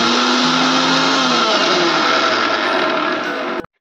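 Chili, ginger, garlic and mola fish being ground in a mixer for a bottle gourd leaf pitika, a loud steady motor whir running without a break for nearly four seconds before it cuts off abruptly.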